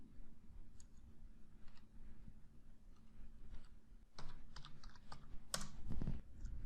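Keys clatter on a computer keyboard as an email ID is typed into a registration form, with soft, irregular clicks that grow into a denser, louder burst in the second half.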